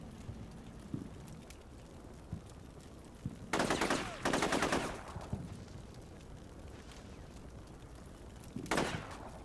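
Gunfire in a Combat Mission battle, with scattered single shots and then loud bursts of automatic fire around the middle, a quieter stretch, and another short burst near the end, over a low hum of battle.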